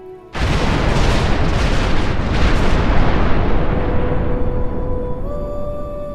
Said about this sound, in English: a massive Iblis explosion that cracks and destroys the entire tower